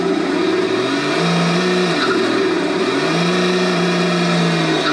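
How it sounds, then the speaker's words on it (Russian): A Toyota Land Cruiser engine with a smoking exhaust runs loud and close, rising and falling through two or three throttle blips above a steady rumbling idle, with no voices. "Теперь мы заведем движок. И теперь будем нажимать газ и будем получать море дыма."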